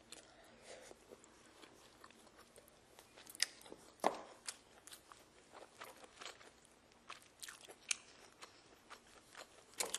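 Roasted shrimp with salt being eaten close to the mic, with repeated crisp crunches, shell cracks and wet chewing at an irregular rhythm, fairly quiet and without talking.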